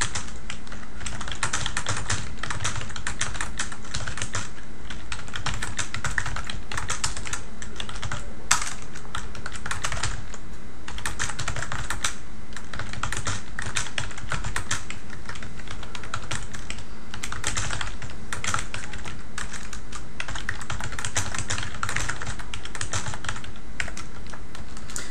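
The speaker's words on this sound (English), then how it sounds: "let's just start writing some text." Someone types random text on a computer keyboard, with a continuous, close stream of rapid key clicks lasting the whole stretch and no talking.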